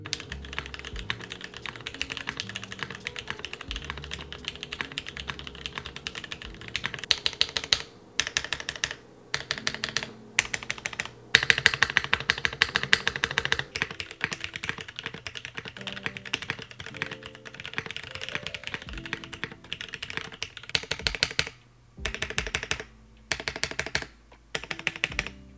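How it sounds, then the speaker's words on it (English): Steady, rapid typing on a TKD Cycle 8 mechanical keyboard, with crisp close-up keystrokes in a clean, mid- to high-pitched rhythm and a few brief pauses between runs. "great sounding keyboard, very clean, very mid-tone to high-pitched kind of leaning type of thing"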